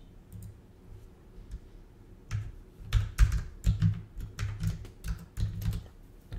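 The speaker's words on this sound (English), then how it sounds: "Sorry for the typey noises" Clattery computer keyboard typing nearby, bursts of quick key clicks with short pauses between, fairly quiet.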